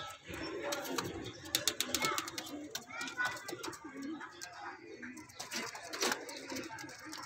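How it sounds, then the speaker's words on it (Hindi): Low cooing from Kamagar pigeons in a Lahore loft, intermittent and close, mixed with wing flutters and someone talking over them. "पक्के पंजों के कबूतर है माशाल्लाह"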